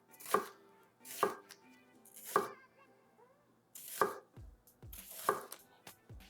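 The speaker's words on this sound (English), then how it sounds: "now we just cut along" A chef's knife chopping an onion into julienne strips on a cutting board, five crisp, close knocks in an uneven rhythm, each short and sharp with quiet gaps between.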